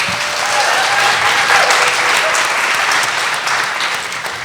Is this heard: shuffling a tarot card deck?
no